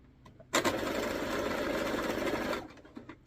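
A sewing machine stitching a sweetheart dress with boning runs in one steady continuous burst of about two seconds, close and fairly loud, starting and stopping abruptly between quiet pauses, with no talk.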